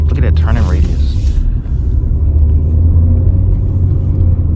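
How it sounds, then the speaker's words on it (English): Steady low road rumble from inside a moving 2014 Nissan Sentra S, continuous and loud, with a brief hiss near the start. "There is a lot of road noise."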